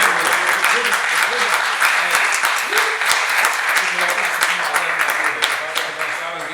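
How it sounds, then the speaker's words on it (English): Audience giving George a quick round of applause at a design talk, a full, steady clapping from a crowd with faint voices underneath, easing slightly toward the end. "I guess we gotta give George a quick round of applause."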